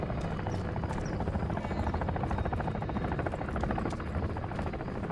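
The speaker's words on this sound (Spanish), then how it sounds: "El helicóptero viene al ataque." A helicopter in the video game Modern Warfare 3 thrums steadily close by, its rotor beating in a fast, even chop over a constant engine drone for the whole stretch.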